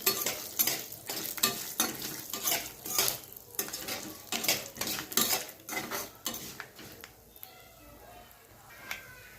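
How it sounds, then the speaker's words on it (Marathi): Two spoonfuls of peanuts dry roasting in a pan after sesame seeds, stirred with a spoon, giving a dense run of close scraping and rattling clicks that thin out toward the end. "तर त्यामध्ये टाकते मी 2 चम्मच शेंगदाणे. छान रोस्ट करून घेऊ आपण हे."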